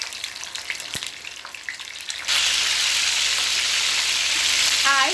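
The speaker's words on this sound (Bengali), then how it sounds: "যে তেলে আমি পেঁয়াজটা বেরেস্তা করেছিলাম, সে তেলে আমি এখানে চিকেন দিয়ে দিচ্ছি।" Salted chicken pieces drop into hot oil that was just used to fry onions golden for a chicken roast. A loud, continuous sizzle bursts in suddenly and holds steady, after a quieter stretch of light kitchen sounds.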